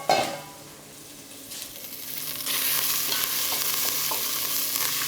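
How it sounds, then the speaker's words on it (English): Bay leaf, thyme and black peppercorns hit a hot pan holding a browned quail carcass and start to sizzle, with a clatter at first, then a stir, then a loud, steady frying hiss. "Just going to add the aromats to the pan."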